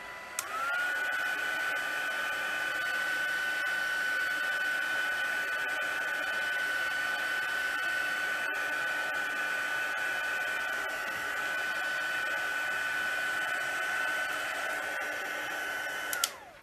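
A hair dryer runs continuously at close range to dry damp Brusho paint on paper, a steady whining blow with a fixed high tone that holds for about sixteen seconds before switching off.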